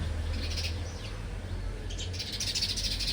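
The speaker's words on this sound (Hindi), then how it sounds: "बरामदे में नन्ही सी चिड़िया का घोंसला और उसके बच्चे भी हो रखे हैं" Baby birds in a nest on a garden veranda chirp with faint, high tweets over a steady background hum of outdoor noise.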